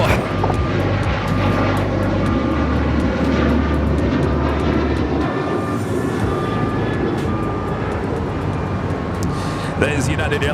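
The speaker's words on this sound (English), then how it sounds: "That is United Airlines Flight 2434 coming up from Newark on a 757 200 at 29 years of age." United Airlines Boeing 757-200, 29 years old and arriving from Newark, makes a loud, steady jet roar with a low rumble, while someone talks over it.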